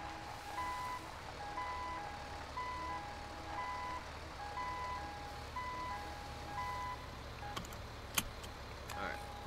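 Truck in GTA V backing up, a regular series of reversing beeps repeating over a low idling engine hum, moderately faint, ending with a few sharp clanks.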